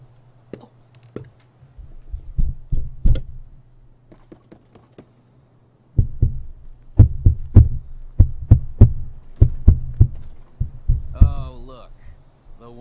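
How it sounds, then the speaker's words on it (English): Heartbeat sound effect in the video game Life is Strange: a low, thumping pulse repeating in steady double beats, pausing briefly and then resuming louder, with a short faint voice near the end. "It's the heartbeat."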